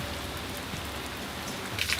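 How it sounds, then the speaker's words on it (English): Rain falls on a surface with a steady, even patter, close and moderately loud, with no voices. "Oh, it's raining."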